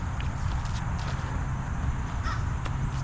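A crow caws several times, a few harsh calls clustered early and more near the end, set against a steady rushing background noise.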